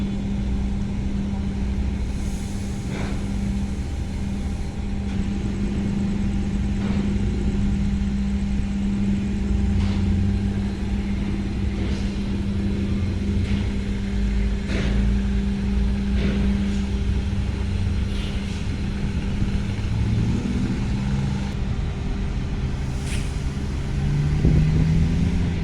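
Steady rumble of engines and vehicles rolling off the KMP Trimas Fadila ferry onto the night dock at Bakauheni port, a continuous loud idling drone with occasional passing motors and clanks throughout.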